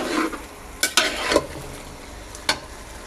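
Beef with broth stir-fried in a pot, a continuous sizzle and bubbling under several sharp spoon scrapes and knocks against the pot, close and fairly loud, no voices.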